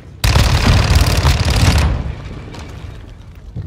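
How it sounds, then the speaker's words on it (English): A grenade launcher fires in a shooter video game: a sudden loud burst of blasts and rapid fire lasting under two seconds, then fading into a lower rumble. "Oh, they got wrecked by that grenade launcher"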